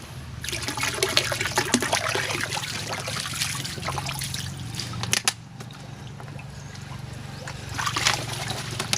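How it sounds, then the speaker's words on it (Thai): Starter culture is poured into a container of water to grow green water, giving a steady trickling, sloshing wash of liquid that runs throughout, with a brief louder splash near the middle and another swell toward the end. "แล้ว บนน้ำนะก็จะเติม หัวเชื้อลงไปนะครับ"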